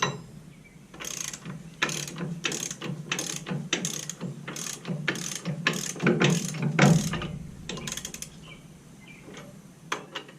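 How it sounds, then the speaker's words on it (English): Socket wrench ratchets clicking in quick rapid bursts while tightening bolts on a tractor drawbar during a hammerstrap install, with short pauses between runs of ratcheting, close and clear with no talking. "But I did have wrenches and sockets with me, so I'll just do it the old-fashioned way."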